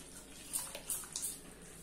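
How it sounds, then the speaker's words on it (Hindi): Water poured into a mashed potato snack batter, a brief trickle with a few splashy spurts close by, soft and alone. "ये देखिए तो इसमें हम थोड़ा सा पानी ऐड करेंगे, ये इस तरह से"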